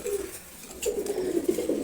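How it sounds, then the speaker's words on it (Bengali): Low, rolling cooing of a pair of racing pigeons close by, a brief pause and then a longer throaty coo with no one speaking. "রেসার কবুতর জোড়া"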